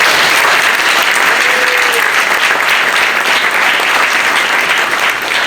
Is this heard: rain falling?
no